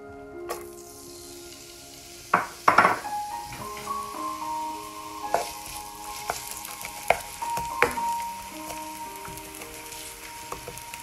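Onion dropped into hot oil in a frying pan, a sudden loud burst of sizzling that settles into steady frying, with scattered clinks and stirring scrapes throughout.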